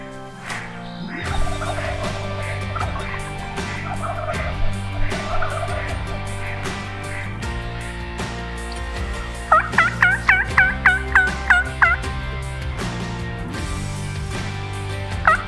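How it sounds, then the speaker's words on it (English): Wild turkeys gobble at dawn in Manitoba's turkey hunting country, a rapid burst of several loud gobbles over steady background birdsong and ambient tones, with no talk. "there's turkeys gobbling all around"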